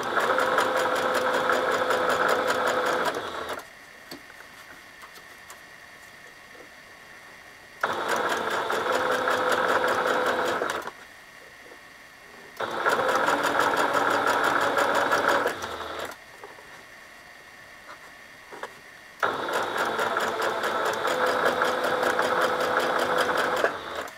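A sewing machine stitching fabric in four loud, steady bursts of rapid mechanical whirring, each a few seconds long, separated by quieter pauses where the machine stops.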